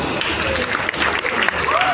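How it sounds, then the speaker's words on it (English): A crowd at the unveiling of Lagos Film City applauds the workers behind the project, brief clapping and crowd noise mixed under a speaker's voice. "Please, guys, give them a round of applause"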